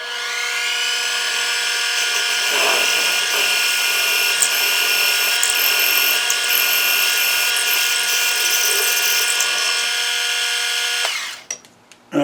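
An end mill held in a chuck cuts a counterbore into an aluminium block, a loud steady whining drone with tonal bands lasting about eleven seconds before it spins down, with a few clatters at the end.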